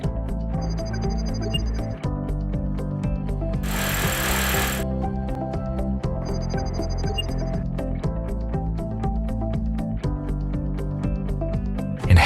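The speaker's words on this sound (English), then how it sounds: "Follow the installation manual to drill holes." A hammer drill bores mounting holes in a wall for a Growatt three-phase inverter, with a loud, steady, rapid pounding rattle that runs continuously at close range.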